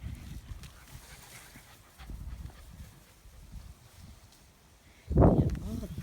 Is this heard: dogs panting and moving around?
yes